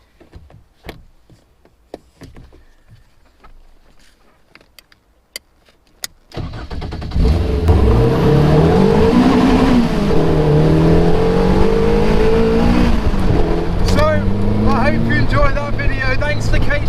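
Caterham 420R sports car engine starts up loud and close, then revs and pulls away in rising and falling gear changes, preceded by quiet clicks and handling noises.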